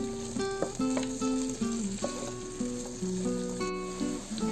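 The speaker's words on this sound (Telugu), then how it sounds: "చూసారు కదా ఆనియన్స్ బాగా ఫ్రై అయిపోయాయి" Spring onions fry in oil in a pan for vegetable pulao, a continuous crackling sizzle that carries under tuneful background music.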